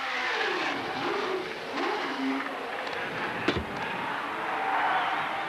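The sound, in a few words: Can-Am race car accelerating away from the pits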